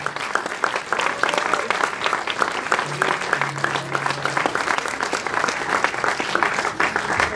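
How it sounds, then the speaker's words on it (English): An auditorium audience at an Indian film festival masterclass applauds Isabelle Huppert with loud, continuous crowd clapping, close and dense, holding steady for the whole stretch. "please give a round of applause to Miss Isabelle Huppert"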